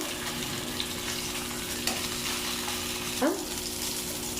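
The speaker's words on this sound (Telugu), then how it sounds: "ఉడకబెట్టిన ఎగ్గులు మధ్యలో మధ్యలో అయితే కట్ చేసుకున్నా ఫ్రై చేసుకోవడానికి." Halved boiled eggs fry in a pan, giving a steady, moderate sizzle with a couple of brief scrapes or knocks, one near the end, and no clear speech.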